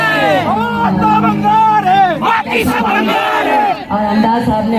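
A crowd of political supporters chanting slogans in unison at a rally in Mumbai, loud rhythmic massed voices rising and falling close by.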